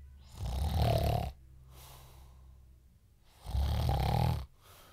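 A person imitates snoring, with two loud, rasping snore breaths separated by quieter breathing in a close, quiet setting.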